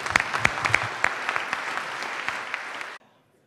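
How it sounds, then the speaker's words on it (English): A startup pitch audience at 1 Million Cups in Kansas City gives a lively round of applause, with individual sharp claps standing out near the start, cutting off abruptly after three seconds. "let's give them a big round of applause"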